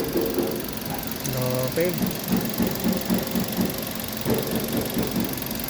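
A Kia Pregio van engine idles steadily after its misfiring spark plugs were replaced, with the air cleaner still off, a close, even mid-pitched chug with rhythmic pulsing, and someone briefly speaks over it.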